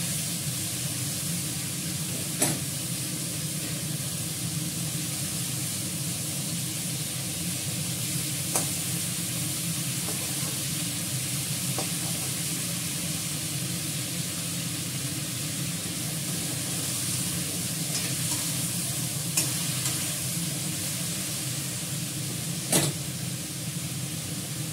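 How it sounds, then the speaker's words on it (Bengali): Curry with ghee and garam masala fries in an iron wok, giving a continuous even sizzle with a few faint clicks of stirring throughout. "ভাজবো লোহার কড়াতে"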